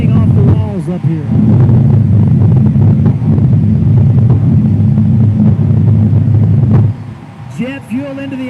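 Fuel altered drag racing cars thundering at Tucson Dragway, a loud continuous engine roar that drops off near the end, with a voice briefly heard over it.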